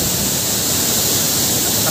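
Salbosa Falls, a waterfall in Davao de Oro, roars as a steady, loud wash of rushing water, heavy and continuous from start to finish with no break.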